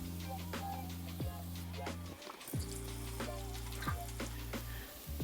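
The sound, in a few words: water running from a tap while washing hands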